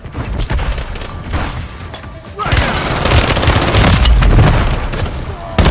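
Rapid bursts of gunfire and heavy booms pound through a Call of Duty: Warzone firefight, loud and close, with a brief lull before the shooting intensifies again.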